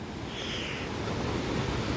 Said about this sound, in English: You see the small waterfall.